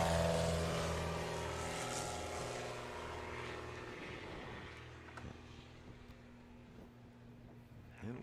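A STOL light propeller airplane takes off during an Appalachian Mountain short takeoff and landing competition. Its engine roars loud and steady at first, then fades as the plane pulls away into the distance.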